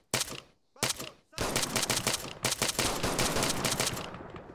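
Close, loud rifle fire cracks out in a clearing-compound fight in Arma 3 with a body-cam mod: two sharp early shots, then a sustained stretch of rapid automatic fire that tapers off at the end.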